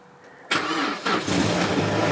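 A Mazda MX-5 left unused for two weeks cranks briefly with the starter, then catches and fires into a steady close-up idle that swells slightly as the engine settles.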